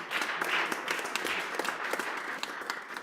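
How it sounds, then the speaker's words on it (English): An audience at a community Kwanzaa festival in Springfield applauds Senator Jake Oliveira, a steady patter of moderate clapping from a crowd heard at some distance. "let's give him another well-deserved round of applause"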